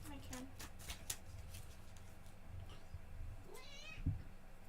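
A pet cat meows indoors at night, a short rising cry standing out near the end over low room noise and background voices.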